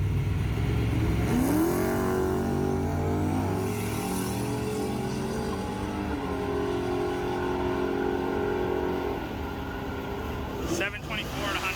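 A turbocharged car on street tyres launches down a drag strip, its engine roaring loud and close and rising in pitch as it accelerates, then holding a sustained, heavy drone.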